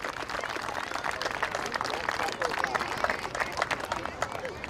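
Crowd applause and clapping at a youth baseball opening day ceremony, a dense, steady patter of many hands held at an even level throughout with scattered louder claps.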